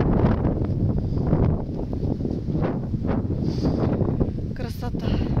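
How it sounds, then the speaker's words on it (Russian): Strong wind roars and buffets the microphone continuously on an observation tower over a bog in Latvia, a dense rumbling gust that never lets up. "Ветер, конечно, все портит."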